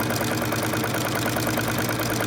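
A sewing machine runs steadily at close range, stitching a zipper along the edge of a pillow cover with a continuous rapid mechanical whir and no talk.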